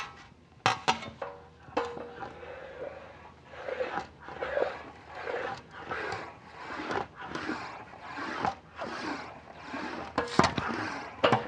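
An English wheel rolls over a sheet metal panel being shaped into a complex M-shaped convex-concave-convex form, giving repeated scraping, rumbling passes with sharp metallic knocks, steady and close throughout.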